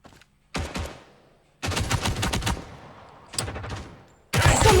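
Gunfire from a mobile shooter video game comes in several loud bursts of rapid automatic shots separated by short pauses, with no talking.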